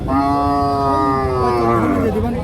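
A thin native-breed cow at the Chougachha cattle market gives one loud, long, close moo that lasts over two seconds and falls in pitch at the end.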